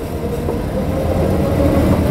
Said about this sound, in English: You can hear those gears churning.